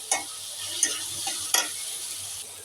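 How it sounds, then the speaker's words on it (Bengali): Tomatoes fry and sizzle in a pan for a prawn dish, with a steady high hiss broken by three sharp scraping stirs of a spatula against the pan. "এই যে টমেটোটা ভাজা হয়ে গেছে।"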